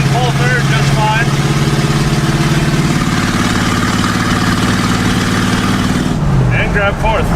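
An old Ford with a swapped-in V8 pulls hard through the gears under load, giving a loud, close, steady engine drone that drops as it shifts near the end. Someone talks over the engine throughout.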